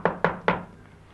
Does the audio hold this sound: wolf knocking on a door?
yes